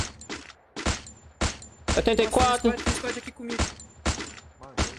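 Gunfire in the mobile battle game Free Fire during a tournament match: sharp, repeated shots in quick bursts at close range, with a player speaking over the middle stretch.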